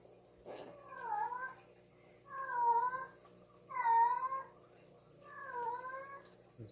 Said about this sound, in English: My cat is in heat. Looking for a partner.